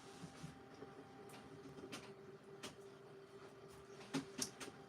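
A printer whirs and clicks while calibrating, a faint low mechanical hum broken by a few soft clacks and short rattles near the end.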